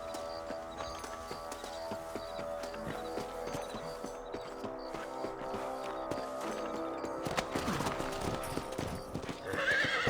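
Horse hooves clip-clop steadily at a trot in the video game Red Dead Redemption, with occasional whinnies and snorts over a layer of background music; the rhythm quickens and grows louder near the end.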